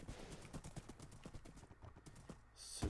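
Quiet, rhythmic clip-clop of a basic horse's hooves in a fantasy video game, steady footfalls for a few seconds and then fading, with a brief louder burst at the end.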